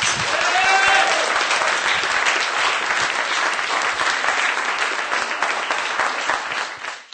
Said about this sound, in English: another great round of applause for our speaker, please